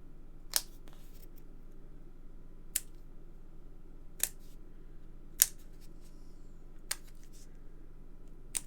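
Scissors cut around the outside of a piece of card, giving six sharp, isolated snips spaced a second or two apart over a quiet background.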